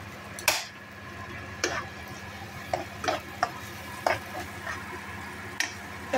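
Something frying in a pan before lentils go in, a quiet steady sizzle broken by regular sharp scrapes and clinks of a utensil stirring against the pan, about one every second.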